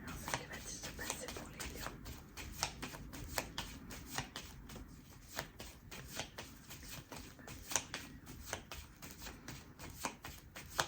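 A 32-card deck is shuffled for a card reading, giving a quick, close run of soft riffling snaps and flicks that repeat irregularly throughout.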